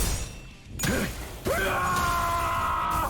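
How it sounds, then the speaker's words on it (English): Character in the game Firefist Gregor letting out a sharp, loud scream, a brief rising-and-falling yell followed by a sustained harsh cry lasting over a second, with a crash-like burst before it. "There's the scream."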